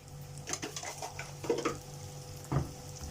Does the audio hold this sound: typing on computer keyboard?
no